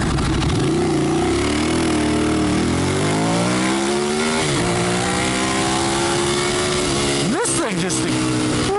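A Ducati Streetfighter motorcycle engine revs and accelerates hard, its harmonic whine climbing in pitch with gear changes, loud and close, running continuously and alone.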